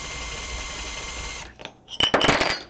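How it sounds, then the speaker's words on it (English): A drill boring a hole in a pump whirs steadily for over a second, winds down, then a burst of clattering and grinding follows. "We take a drill, and you drill a hole that's bigger than this hole."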